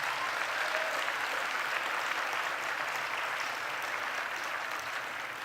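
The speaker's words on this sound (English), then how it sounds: "Let's give them a round of applause." Sustained applause from an indoor audience at a community event, a dense even wash of clapping that holds steady for several seconds and fades slightly at the end, with no voices over it.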